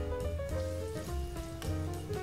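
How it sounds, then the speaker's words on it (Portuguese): Minced garlic fries in a little oil, a soft continuous sizzle with gentle tonal scraping of a utensil, close and fairly quiet. "Vou fritar um pouco esse alho"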